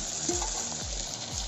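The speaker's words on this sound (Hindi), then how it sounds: "प्याज ऑलमोस्ट पक गया है, अपना लोकल चिकन डालते हैं" Local chicken and onions frying in a pan give a continuous close sizzle, with a few brief scraping or stirring sounds over the hiss.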